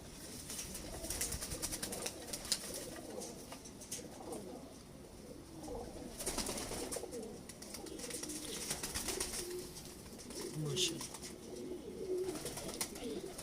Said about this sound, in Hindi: ये मिस्से कबूतर हैं मिस्त्रियों वाले।